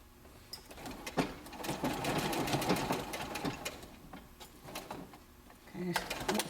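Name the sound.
sewing machine stitching an apron ruffle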